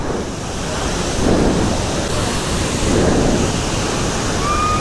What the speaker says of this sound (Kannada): ನೋಡಿ ಮೋಕಾನನ ಫಾಲ್ಸ್ ಸೂಪರ್ ಆಗಿದೆ